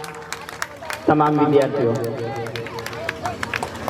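Students from a school kho-kho team are welcomed onto the stage at an annual school function. A crowd's clapping bursts in suddenly and keeps up steadily while an amplified voice speaks over it.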